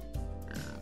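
A pig gives one short, close oink, a quick nasal grunt.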